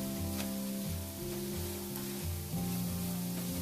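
Coarse moong dal roasting in desi ghee for halwa, a steady soft sizzle and crackle running throughout beneath a sustained musical background, with no talking.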